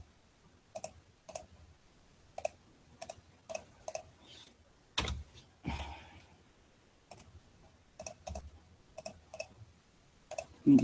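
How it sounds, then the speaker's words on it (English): Computer mouse and keyboard clicks sound in scattered single and paired taps, close and crisp, with a few louder thumps between them in an otherwise quiet room. "I'll be doing a lot of clicking"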